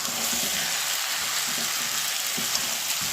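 Potatoes sizzle in a spiced masala alongside chicken in a home pan, giving a steady, dense frying hiss with no pauses, close and fairly loud throughout.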